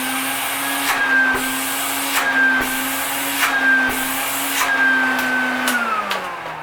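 An Electrolux AP280 vacuum cleaner runs steadily with a loud, even motor whine and airy rush, its pitch wavering slightly before dropping as it begins to wind down near the end.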